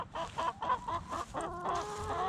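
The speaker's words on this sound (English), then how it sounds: "There's my chickens. They're waiting for me to give them a treat." Chickens cluck close by in a quick, busy series of short calls, several birds overlapping.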